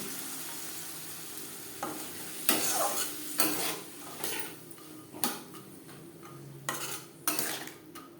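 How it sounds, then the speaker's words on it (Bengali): Soaked chickpeas stirred with ground spices in a pan for a banana flower fry, a low sizzle broken by several loud, close scrapes and clinks of a spatula against the pan at irregular intervals. "ছোলার সাথে 2-3 মিনিট মশলার সাথে ছোলা 2-3 মিনিট নাড়াচাড়া করে নেব"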